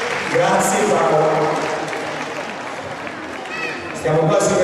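Applause for a physiotherapist at an artistic gymnastics recital in Ascoli Piceno, a crowd clapping steadily throughout with a voice over the speakers partway through and cheering swelling again near the end.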